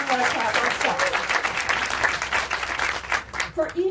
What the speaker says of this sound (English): for each of these leaders, we can clap